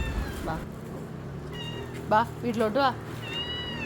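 A person speaks briefly, then house cats answer with a few high, wavering meows, one after another at close range.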